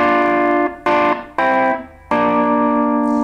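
Electric guitar plays the chorus riff from a song, a few plucked double-stop chords ringing out one after another, clean and close with no talking.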